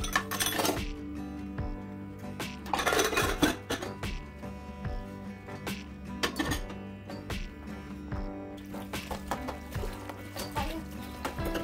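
Dishes being washed at home after a busy day, with repeated clinks and clatters of glass and metal utensils knocking together near the microphone, plus faint background murmur.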